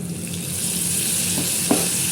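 Tomatoes sautéing in hot oil with dried brinjal and dried turkey berry for a vathal kuzhambu, giving a steady close sizzle with one soft stir-scrape partway through.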